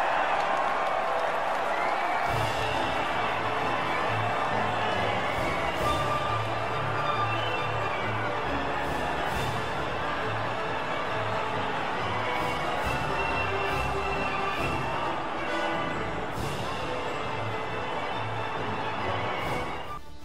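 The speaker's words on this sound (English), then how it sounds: "They're making their way out to the podium now as we speak, and the reaction from the crowd must be incredibly uplifting for them." A podium crowd in the racing game F1 2019 cheers, a steady, dense wash of applause and shouting that holds loud and even throughout.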